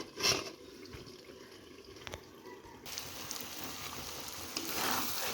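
Chicken and potato curry with raw spices fries and is stirred in a pan, giving a steady wet sizzle that grows louder and denser partway through, with a brief scrape near the start.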